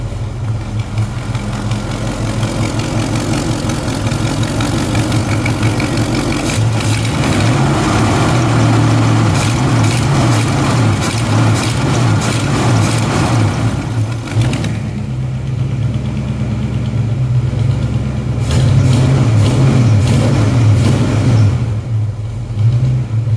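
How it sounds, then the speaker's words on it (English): A car engine idles with a steady, loud rumble and then rises in a few throttle revs before settling back, recorded close with no talking. "Get a little heat in it. Rev it up a little bit."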